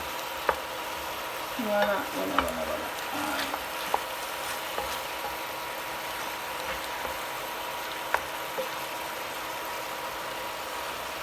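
Goat meat fries in a pan with a steady broad sizzle throughout, close and fairly loud, with a few scraping stirs early on and occasional sharp pops, while someone speaks briefly.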